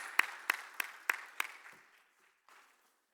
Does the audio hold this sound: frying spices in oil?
no